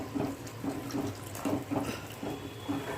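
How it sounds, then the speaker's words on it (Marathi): Water is poured from a large glass into a besan mixture, a soft, steady, close splashing pour with gentle pulses and no talking. "मी इथे आता असे 2 मोठे ग्लास पाणी घालणार आहे."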